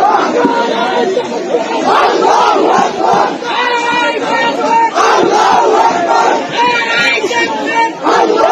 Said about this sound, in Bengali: গানের আসরে ধর্মীয় স্লোগান কট্টরপন্থীদের